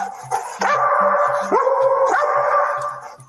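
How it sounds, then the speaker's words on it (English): A police canine barks and yelps beside a white Nissan Sentra, several loud, close barks stretching into whining howls, with a faint pulsing low tone repeating underneath. "The canine handler then brings the dog over to a white Nissan Sentra belonging to Soto's mother, Jennifer."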